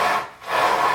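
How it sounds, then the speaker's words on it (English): A blade shaves across a thick piece of sole bend leather cut as a cowboy boot counter, one short, close, rasping stroke that dips briefly in the middle. "So now I've skived top and bottom."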